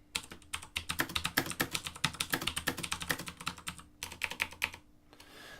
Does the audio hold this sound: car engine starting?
no